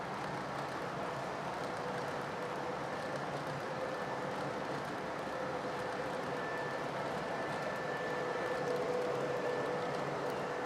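An O gauge model freight train rumbles steadily along its track with a continuous whirring hum and faint high whine, fairly close, with no talking.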